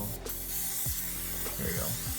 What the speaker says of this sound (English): we're going to take our cooking spray to oil up the griddle.